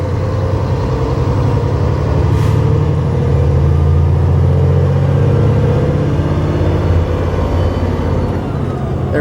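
Heavy RV hauler truck engine pulling hard and accelerating as it shifts up through the gears, a loud, steady low rumble that stays close and continuous throughout.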